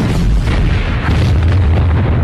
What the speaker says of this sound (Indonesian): ledakan itu yang pasti membuat Jude tewas dan mengenai dua psikopat ini